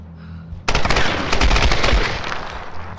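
Gunfire in the Tomb Raider Definitive Edition video game: a loud, sudden burst of rapid automatic shots that keeps going for about two seconds, then fades slightly at the end.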